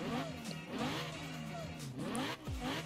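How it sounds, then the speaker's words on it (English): Lamborghini Huracan Performante engine revving in Forza Horizon 4: loud, sustained rising and falling revs in quick succession, close and continuous with a sharp drop near the end. "Let's go ahead and rev this thing."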